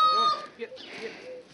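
Guinea fowl call out in a farmyard, giving a short, loud, harsh squawking burst close by with scratchy, chattering notes.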